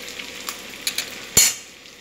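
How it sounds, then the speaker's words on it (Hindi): Large-cut green chillies and spices crackle as they fry in hot oil, with a few scattered sharp pops building to one loud burst of sizzle that fades quickly. "तड़क रहा है इसमें।"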